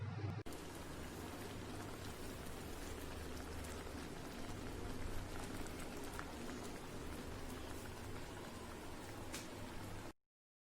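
Prawns simmering in a pan for an Andhra-style shrimp fry as they release their water, a steady soft bubbling and crackling sizzle, continuous and quiet throughout.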